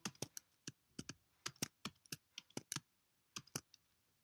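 Keystrokes on a computer keyboard while a paragraph is typed, about two dozen crisp clicks in uneven quick bursts with brief pauses, close and clear against a quiet background.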